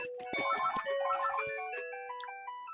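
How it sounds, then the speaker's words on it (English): A phone rings in the background during a festive podcast recording, a run of electronic tonal chimes repeating over a few seconds with no talk over it. "you might hear in the background a certain phone"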